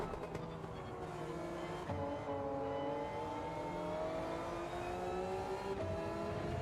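A Gran Turismo 7 race car accelerates out of pit lane at Kyoto, its engine revving up through the gears in rising tones with brief dips at each shift. The sound holds steady and moderately loud throughout.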